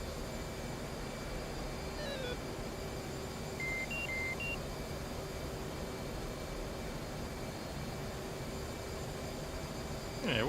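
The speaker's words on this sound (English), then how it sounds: "there is a beeping sound" Warning beeps sound in an F-18 cockpit in the DCS flight simulator, a few short tones near the start and middle over a steady engine and airflow hum.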